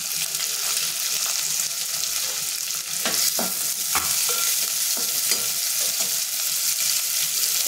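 Onion sizzles loudly in hot oil with cumin, grated ginger and garlic, a dense continuous frying hiss broken by a few spatula scrapes and taps against the pan partway through.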